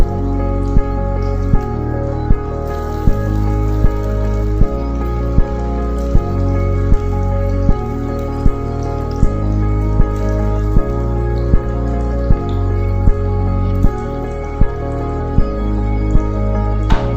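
Potatoes cut for masala french fries fry in oil on a low flame, giving a steady, close bubbling sizzle with regular small popping crackles throughout.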